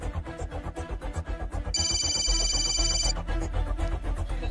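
A telephone rings in a Hindi movie scene, a bright trilling ring of about a second and a half that rises over a rhythmic music and dialogue background.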